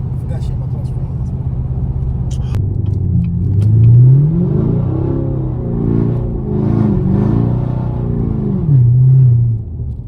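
A Camaro 2SS engine rumbles loudly from inside the car, its deep exhaust note rising and falling as it accelerates through city streets, with voices talking over the steady engine drone.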